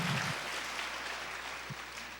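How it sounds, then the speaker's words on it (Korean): A church congregation claps in a steady wash of applause that fades slightly over a couple of seconds, filling the hall after a welcome for a visiting speaker. "박수로 한번 뜨겁게 응답하십시다."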